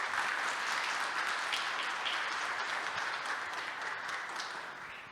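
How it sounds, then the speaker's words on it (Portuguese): A meetup audience at an Apache Airflow talk applauds, a fairly quiet, even patter of many hands clapping that tapers off gradually toward the end. "Então eu queria uma salva de palmas aí para eles"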